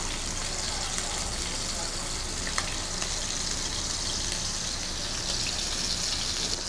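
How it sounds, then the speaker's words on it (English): Fish sizzles and crackles in hot oil in a wok, a constant close frying hiss with occasional small pops throughout. "Check that fish sizzling there now"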